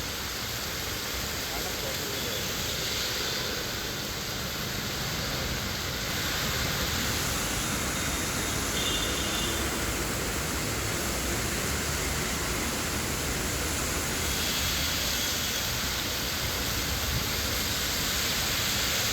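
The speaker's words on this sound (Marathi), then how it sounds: "मात्र पाऊस कोसळतोय आणि प्रचंड प्रमाणात पाणी साचलेलं आहे" Heavy rain pours down steadily on a flooded street near a cinema in Thane during a red alert, making a dense, continuous broadband wash with no breaks throughout.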